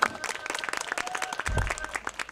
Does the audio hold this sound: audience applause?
yes